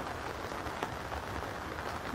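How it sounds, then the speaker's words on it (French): Heavy rain in large drops falling straight down without wind, a dense continuous patter on the ground close by, steady and even throughout with no voices. "Il pleut droit comme on dit, c'est-à-dire à grosses gouttes et pas de vent."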